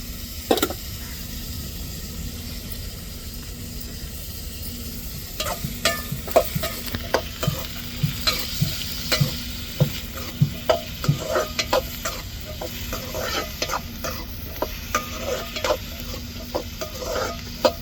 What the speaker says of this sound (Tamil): பொரியலுக்கு வெங்காயம் தக்காளி மிளகாய் இதெல்லாம் நல்லா வதக்கிக்கிடுவோம்